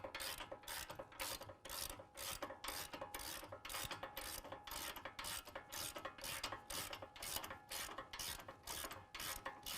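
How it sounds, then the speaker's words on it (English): A ratchet tightens the upper control arm bolt to the steering knuckle on a 2018 Ford F-150, producing steady, rhythmic clicking strokes that repeat evenly, close and fairly quiet. "now we're going to go ahead and tighten down the upper control arm to the steering knuckle and get that set to 75 foot-pounds"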